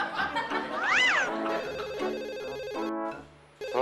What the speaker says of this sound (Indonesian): Telepon tuh dia